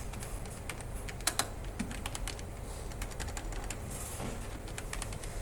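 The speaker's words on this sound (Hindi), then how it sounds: "यहाँ पे आपने टाइप कर लेना है" Rapid, uneven tapping of keys on a computer keyboard while text is typed into a design app, with several sharper clicks standing out, close and alone with no talking.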